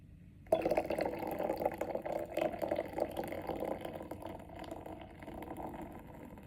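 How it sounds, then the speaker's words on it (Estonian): Monster Ultra Golden Pineapple energy drink pours into a glass with a steady, fizzy splashing stream that starts abruptly and runs on, slowly easing while the carbonation foams and crackles. "Ja paneme siis Monsterit peale, tegemist on Ultra Golden Pineapple'iga."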